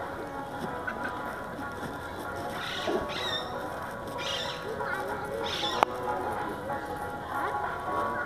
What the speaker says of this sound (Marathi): पोपटाचा आवाज येतो इथे